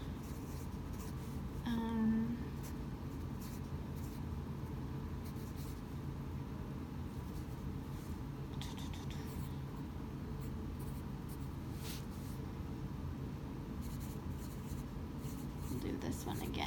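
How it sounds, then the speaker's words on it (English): A pen writes out random numbers by hand on paper, a faint continuous scratching that sits low under a steady room hum across the whole stretch, with no clear strokes standing out. "I'll just write out some random numbers."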